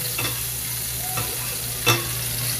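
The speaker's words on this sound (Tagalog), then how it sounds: "gisa na tayo mga Koblax. Lagyan natin ng margarine." Margarine sizzles and spatters steadily in a pan during sautéing, with soft stirring scrapes and a brief louder crackle near the end. The cooking noise is moderate and close, with no voices.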